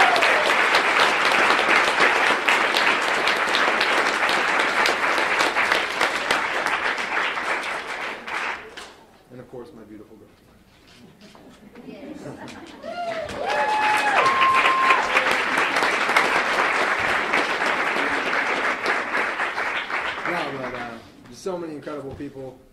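An audience applauds loudly in two long sustained bursts, the clapping dipping into a brief quieter gap in the middle before swelling again, with a few voices audible in that lull.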